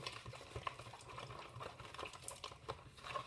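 Liquid whisked quickly into foam, producing a busy, fluttering patter of sloshing and clicking strokes that stays close and moderately quiet throughout.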